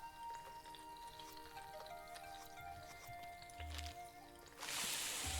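Whole spices sizzle and crackle in a pan in the cooking game Venba, with a soft, steady frying hiss and small pops under background music, then a louder burst of sizzle at the end.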